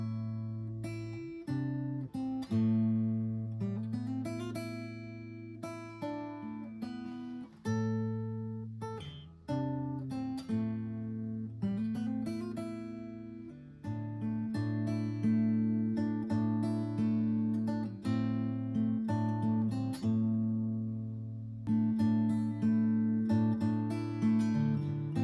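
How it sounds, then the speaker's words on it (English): Acoustic guitar playing a song, ringing plucked and strummed chords with a picked melody, close and clear, played alone for about twenty-five seconds with brief pauses between phrases. "I'm not the best teacher, but altogether it'll sound like this."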